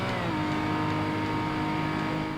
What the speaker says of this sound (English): This is the first time I've driven a V12 car in career mode.